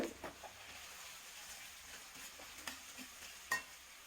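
Ginger paste frying in a pan, a faint steady sizzle with a few soft stirring clicks and taps, quiet and close with no talking.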